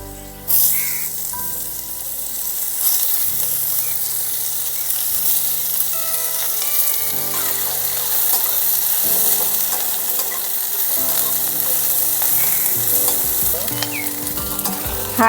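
Carrot and capsicum frying in a pan over a high flame for a masala egg noodle dish: continuous loud sizzling with occasional stirring, steady throughout over quiet background music.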